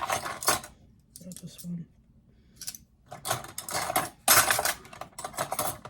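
Metal cutlery clinks and rattles in bursts as a drawer of utensils is rummaged through in search of a teaspoon, with short pauses between clatters and a person speaking briefly over it.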